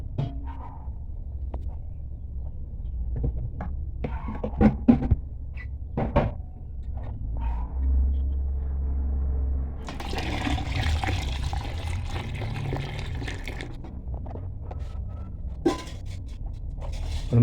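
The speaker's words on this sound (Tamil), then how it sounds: "4 லிட்டர் தண்ணி அளந்து எடுத்து வச்சுருக்கோம்." Four liters of measured water pour into a grape mixture for homemade non-alcoholic red grape wine, a rushing splash after a few scattered clunks and knocks of containers, fairly close.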